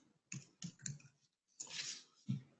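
Typing on a computer keyboard, a short burst of soft key clicks followed by a pause and a few more keystrokes, faint and close with no talking.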